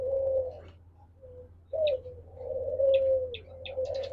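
Diamond doves on a farm give soft, low cooing calls, a long drawn coo and then several more spaced through the stretch, with brief higher chirps between them over a steady low hum.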